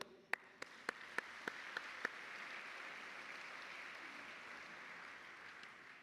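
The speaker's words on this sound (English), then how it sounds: "let's give one more big round of applause for everybody." Applause from the audience at a children's charity awards luncheon, opening with a few sharp, distinct claps near the microphone before settling into a softer, even wash of clapping that holds steady.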